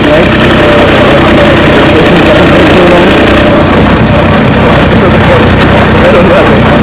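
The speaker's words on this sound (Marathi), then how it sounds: "फायनली तो आपण तो ट्रॅक्टर चालू केलाय." A farm tractor's engine, just started after a blockage was cleared, runs loud and close in a steady unbroken chug that holds level throughout.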